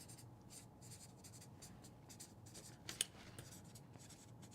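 Marker writing on a whiteboard during an equalizer training session, a faint continuous scratchy rub in quiet room tone with one brief louder tap near the end.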